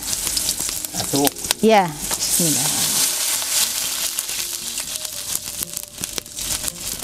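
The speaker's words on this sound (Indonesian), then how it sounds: "Setelah bumbunya wangi, kita masukkan air secukupnya aja." Water poured into a pan of fried, fragrant spices, setting off a steady, bright sizzle that runs on under a man's short spoken remarks.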